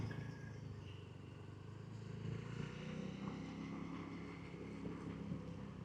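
A motorcycle engine strains and labours at a steady low drone, ridden through city streets, continuous and moderately close with no clear revving peaks.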